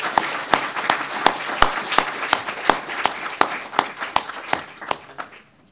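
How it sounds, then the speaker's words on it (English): Audience applause closing a scientific conference session on parasites, pathogens and wildlife disease, a room of clapping hands with sharp individual claps standing out over the steady patter, fading out near the end. "We can just leave with one large round of applause for all our speakers."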